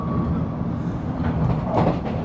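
A train in Korea rumbles steadily with low-frequency rolling noise and faint wheel clatter, a continuous ride ambience with no talking.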